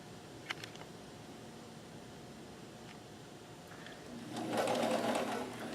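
Kenmore 158.1914 sewing machine stitching a zigzag pattern, a faint steady whir that swells into a louder, busier run of stitching near the end.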